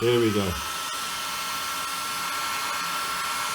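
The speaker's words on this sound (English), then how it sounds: "It's one of those guns, you know, you use for painting and stuff, you know, stripping paint." A paint-stripping heat gun blows hot air to shrink the covering on a vintage SE5a model aircraft, giving a steady, close, even whoosh and whine throughout after a short spoken remark at the start.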